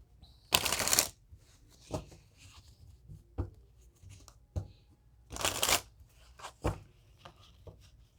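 A deck of tarot cards being shuffled, with two loud riffling bursts and several sharp taps and clacks between them, close up in a quiet room.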